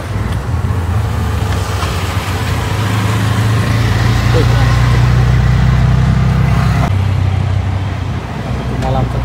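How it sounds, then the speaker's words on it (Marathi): An auto rickshaw engine runs steadily with a low drone throughout, heard from inside the ride through traffic in Kankavli, Konkan. A voice talks over the engine noise. "आता रिक्षा पकडून चाललो आम्ही घरी."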